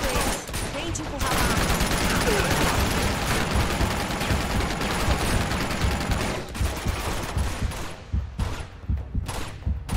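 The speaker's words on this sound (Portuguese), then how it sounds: "Temos que acabar com a metralhadora." Machine gun fire in the Uncharted 2: Among Thieves video game: dense, sustained bursts of automatic gunfire with loud rattling volleys that thin into scattered shots toward the end, with game voices talking beneath.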